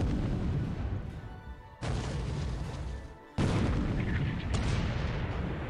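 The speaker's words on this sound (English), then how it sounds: "Yeah, explosions below deck." Explosions below deck on a warship in the War Plan Orange naval video game, heavy rumbling booms in three dense, loud bursts with abrupt onsets and sustained roaring decay.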